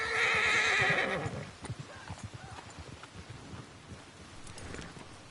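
A horse gives a loud, shrill whinny, then hooves clop in an uneven rhythm and fade, with soft rain-like hiss in the background.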